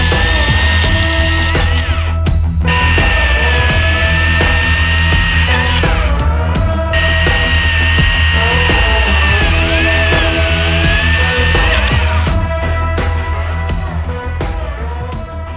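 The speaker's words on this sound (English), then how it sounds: "I'm gonna cut through this a handful of times, make the chainsaw work a bit harder" A battery chainsaw cuts repeatedly through an old 4x4 timber. Its loud, steady, high-pitched motor whine holds throughout, with short breaks near two, six and twelve seconds between cuts.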